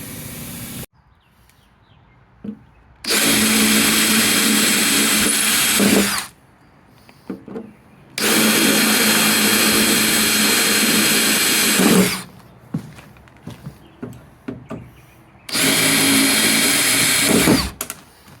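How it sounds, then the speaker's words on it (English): A power drill whines loudly in three long bursts of several seconds each, drilling out rivets on a 1977 StarCraft boat, with short pauses of small clicks and handling noise between them. "I'm gonna get to drilling"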